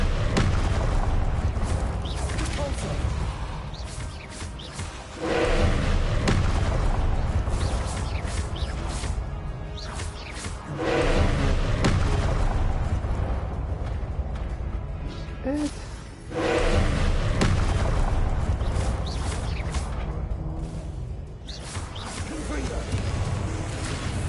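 A Confringo fire spell in Hogwarts Legacy erupts in repeated loud booming blasts with rushing whooshes, dense and sustained in a heavy game soundscape, each surge swelling then easing, while a voice talks over it.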